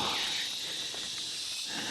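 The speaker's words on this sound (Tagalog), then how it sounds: "Mga huni ng ibon at kuliglig." Crickets chirp in a steady, high-pitched drone that fills the whole stretch, with no voices and a faint airy wash of outdoor background, in the forest at Pisyo Falls, Siniloan, Laguna.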